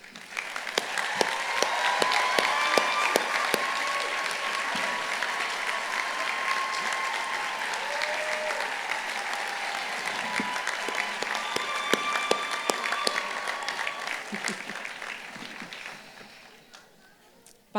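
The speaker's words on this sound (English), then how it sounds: "give a warm round of applause to our incredible faculty" Sustained, full audience applause fills a law school commencement ceremony, steady clapping from a large crowd that holds for many seconds before tapering off near the end.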